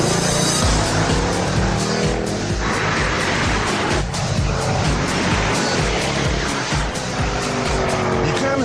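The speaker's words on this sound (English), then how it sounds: "what I've got here is the AMG supercharged V8" A Mercedes CLS 55 AMG with a 5.5-litre supercharged V8 drives hard, its engine roaring loud and close with tire squeal as it powers along, no voices over it.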